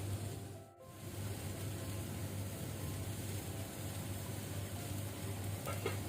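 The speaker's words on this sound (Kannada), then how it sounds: "ಈಗ ನಾವು ಮೀಡಿಯಮ್ ಟು ಹೈ ಫ್ಲೇಮಲ್ಲಿ ಇದನ್ನು ಕುದಿಲಿಕ್ಕೆ ಬಿಡುವ, ಕುಕ್ ಆಗಲಿ." A clam curry bubbling on a medium to high flame, heard as a soft, steady simmering hiss with faint crackles and no voices.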